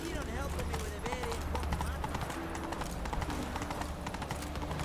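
The horse Roach gallops in The Witcher 3, a quick rhythmic clip-clop of hooves with a brief whinny, under game dialogue and music.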